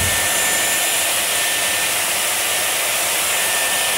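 A Dyson Airwrap hair styler runs continuously while drying hair, giving a loud, steady, close whoosh of blown air with a high whine and no talking.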